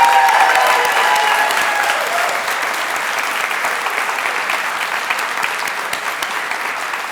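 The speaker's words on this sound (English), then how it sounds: "Let's have a big round of applause for a job very well done." Audience at an awards ceremony for book award winners and finalists breaks into loud sustained applause that slowly thins and softens over several seconds, with a few faint voices beneath.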